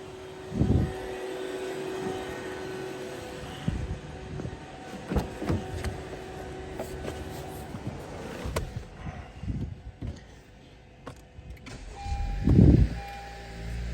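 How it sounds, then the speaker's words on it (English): A Honda vehicle's engine running during AC compressor service with refrigerant, a steady close mechanical hum joined by intermittent clunks, whirs and a louder surge near the end, with no talking. "And now we're going to run the vehicle."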